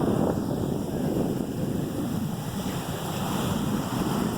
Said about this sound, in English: If I had a boogie board, I'd be out there, but the waves aren't that great, really.